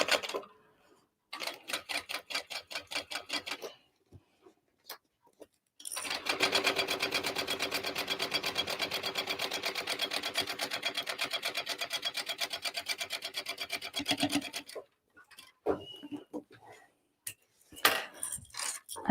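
A sewing machine stitches a seam on a tote bag in short, quick bursts, then runs one long steady stretch of rapid needle clatter before stopping and starting again in brief spurts, close and clear.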